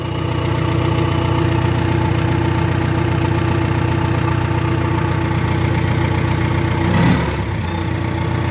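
A bulldozer's diesel engine idles as it warms up after startup, a steady close rumble with a knocking, ticking texture, briefly swelling in a short rev or clatter near the end.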